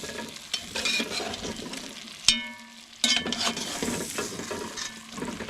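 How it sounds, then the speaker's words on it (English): Lard and flour rabbit gravy stirred in a pan over a steady sizzle, with continuous scraping strokes and two sharp metallic knocks near the middle. "Mix her up."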